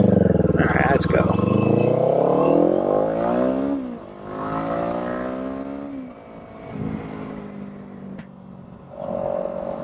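A Kawasaki Eliminator motorcycle with a new tire out on a ride, its engine loud and close, revving up and easing off through the gears in long rising sweeps.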